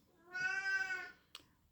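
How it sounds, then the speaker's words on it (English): A domestic cat lets out one drawn-out, tonal meow close by, followed by a brief soft click, with no talk. "Oh, that's my cat."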